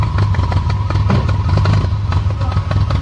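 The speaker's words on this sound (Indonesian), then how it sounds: "tapi denger idle-nya kayak gini aja" A 2014 Toyota Vios with a 1NZ-FE engine, racing camshaft and stock exhaust idles steadily close by, a low, even rumble with light clatter and some faint talk in the background.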